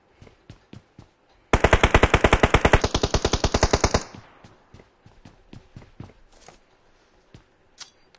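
Video game gunfire: a loud, fast automatic burst of about two and a half seconds, bracketed by scattered single shots and clicks before and after.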